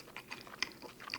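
Close, quiet chewing of a Joe Burger double cheeseburger with fresh lettuce: soft crunches and wet bites in an uneven rhythm, with no talking.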